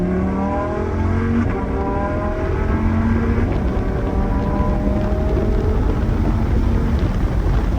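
Lamborghini Sterrato in sport mode launching hard from the cockpit, a loud engine roar climbing through the revs with rising tones and a gearshift, steady and close under a constant rush of road and wind.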